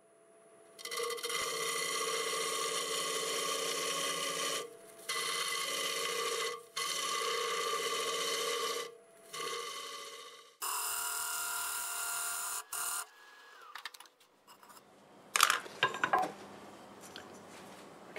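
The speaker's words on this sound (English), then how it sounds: "I switched to my small hollowing tool so I can create a little fillet at the bottom." A small hollowing tool cuts into a spinning wood blank on a lathe while a star illusion piece is turned, giving steady rasping bursts broken by short pauses, then scattered scrapes and knocks near the end.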